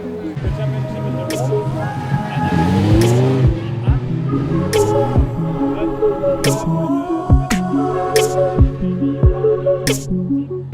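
Race car engine note rising and falling with throttle as the tires spin, tonal and close, with sharp clicks and ticks scattered throughout; a voice talks over part of it.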